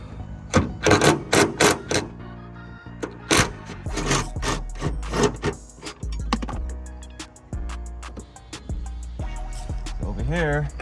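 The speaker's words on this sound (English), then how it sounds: "So I'm going ahead and take off the bolts." Hood bolts being loosened and removed from a 2018-2024 Toyota Camry, a run of sharp metallic clicks and ratchet-like ticks at close range, bursts of quick taps with scraping in between and a short whirring at the end.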